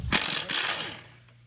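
A ratchet wrench clicks in quick bursts while loosening the strut knuckle bolts on a Hyundai Tucson, with the 19 mm nut side worked first. Two close, loud metallic ratcheting spurts are followed by a fading mechanical rattle.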